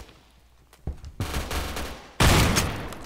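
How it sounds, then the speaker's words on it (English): Shotgun blasts in the Phantom Forces video game: a sharp report near the start, another heavier boom mid-clip, then a loud close blast with a sustained noisy tail. "That's the problem with not having the time to aim in with a shotgun."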